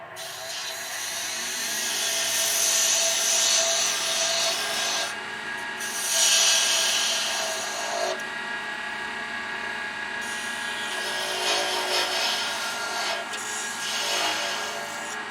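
Steady rasping strokes of a hand saw cutting through wood for a shaving brush handle, close and continuous with short pauses between passes.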